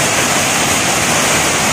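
The Air Terjun Cughup Buluh waterfall in Gumay Ulu Lahat roars close by as a loud, unbroken rush of white noise.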